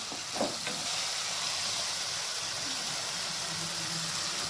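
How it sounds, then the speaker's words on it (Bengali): Tomato paste goes into spices frying in a pan, giving a steady, loud sizzle and hiss with a brief stirring scrape near the start. "এরপর এই স্টেজে আমি টমেটো পেস্টটা দিয়ে দিচ্ছি।"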